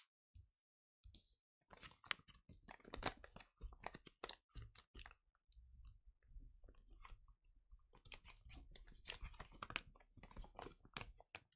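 Wrapping paper being folded around a gift, quiet close crinkles, crisp taps and papery rustles in uneven bursts with short pauses between, soft and intimate.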